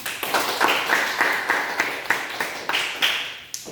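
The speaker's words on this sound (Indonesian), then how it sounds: "Kelompok 2 beri tepuk tangan." A small class claps for a student group after their presentation in a biology microteaching lesson, a near, rhythmic patter of hands beating in a loose repeating pattern.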